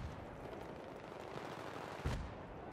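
Video game gunfire during a multiplayer match on the Grand Bazaar map, a steady rattle of distant shots under a dull battle rumble, capped by one sharper, louder report near the end.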